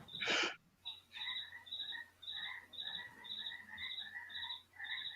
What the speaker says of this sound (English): Can't hear anything over these freaking frogs